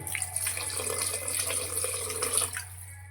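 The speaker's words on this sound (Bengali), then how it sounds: "একটু দিয়ে দেবো জল" Warm water pours into a pan of paneer curry with tomato and chilli sauce, a steady close splashing trickle that runs for a few seconds before easing off, with no voices.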